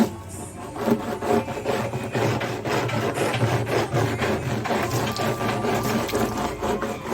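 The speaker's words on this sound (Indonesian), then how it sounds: "Nah, itu digosok, lalu juga untuk merapikan samping-sampingnya." Steady abrasive rubbing of a hand sander or stone against the sides of a terrazzo tombstone, a continuous gritty scraping with rhythmic strokes, close and fairly loud, no talking.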